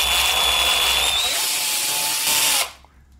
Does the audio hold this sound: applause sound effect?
no